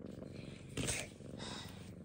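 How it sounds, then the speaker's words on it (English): A cat purrs close by in a steady, low rumbling rhythm that continues throughout, with a brief louder rustle or snort partway through. "Purring."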